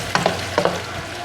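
Onions browning in oil in a pan for beef qeema give a brief close sizzle, broken by two pairs of quick stirring scrapes, with no talking.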